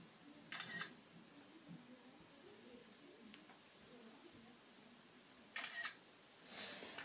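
Camera shutter firing twice, crisp close clicks separated by a few seconds of quiet room tone, with a distant bird cooing faintly in the background.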